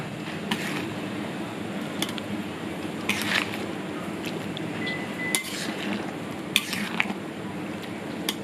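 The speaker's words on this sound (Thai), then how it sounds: "แล้วก็คนให้น้ำตาลละลายนะคะ" A spoon stirs green curry in a pot to dissolve sugar, making faint scattered clinks and scrapes against the metal over a low background hum, with no talking.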